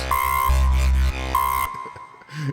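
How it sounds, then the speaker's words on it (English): A Logic Pro X synth patch called Vector Gun, built for dubstep sound design, fires an alien-shot effect: loud buzzy tonal blasts with a bright pitched whine, cutting off into a short, sputtering tail. "if you shot an alien with a special Vector Gun, he would sound like this"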